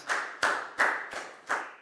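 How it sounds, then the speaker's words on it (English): Five sharp claps ring out in a steady rhythm, close and fairly quiet, like a single person clapping. "High five and a big round of applause for Pat"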